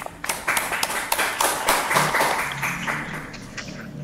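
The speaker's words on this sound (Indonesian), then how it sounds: "ada baiknya kita aplaus dulu untuk semua jawaban kita" Students in a chemistry class clapping together for several seconds, a brisk, fairly close round of applause with uneven handclaps overlapping.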